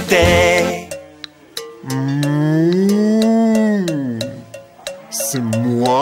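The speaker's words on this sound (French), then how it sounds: "la vache dit mou." A cow's long, drawn-out moo in a French children's song, loud and close, sliding in pitch over a few seconds with brief musical sounds around it.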